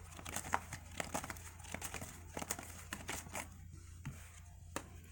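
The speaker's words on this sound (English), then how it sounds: "Let me shuffle." Rapid crisp riffling and slapping of tarot cards being shuffled, repeated in quick bursts over several seconds, close by.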